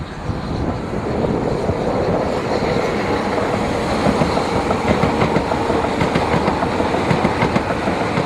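Javelin electric multiple unit running on the HS1 line near Ebbsfleet, a steady loud rumble with rail clatter and wheel noise sustained throughout, no voices.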